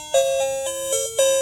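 A loud metal alarm clock bell rings in bright, tonal bursts, roughly four strikes in quick succession, each with a clear ringing tone, close and alone.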